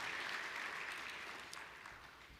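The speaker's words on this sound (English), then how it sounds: "deserve a big round of applause for the amazing" An audience at a keynote gives sustained applause, a dense wash of clapping that gradually tapers off.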